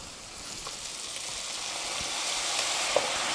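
Lemon oil poured into a hot pan for cod and potatoes sets off a quiet, even sizzle that slowly builds, with a few small pops.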